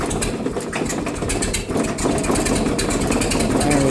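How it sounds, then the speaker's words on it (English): A Farmall 400D tractor engine cranks and catches, running loudly and steadily up close with a mechanical clatter throughout. "Now I'll go ahead and crank it over and see if it'll start."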